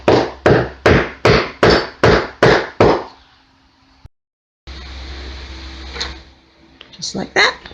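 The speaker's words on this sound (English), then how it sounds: "give it some taps with a hammer, or I'm using the back of my screwdriver to get it loosened up" The back of a screwdriver taps a seat part loose during demolition of a 1967 Chinook Motorlodge. Eight sharp, evenly spaced knocks sound up close, then quieter handling noises follow with a voice speaking.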